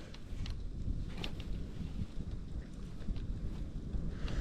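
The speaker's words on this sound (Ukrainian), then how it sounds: "Тому вітру не треба боятися, а треба до нього а, пристосовуватись." Wind blowing steadily across an open river bay of the Desna during late-autumn microjig fishing, a constant broadband rush buffeting the microphone, loud and continuous with no voices over it.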